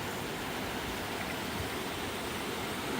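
Jackson Creek near Marias Pass, Montana, flowing in a constant broadband rush of water, close and steady with no talking.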